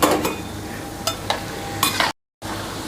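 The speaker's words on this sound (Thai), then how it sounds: "เราก็จะไปทอดอีกรอบสองเพื่อให้มันกรอบครับผม" French fries get their second fry in hot oil, giving a dense, bubbling sizzle with sharp scraping stir strokes. A short gap of silence cuts in before the frying resumes.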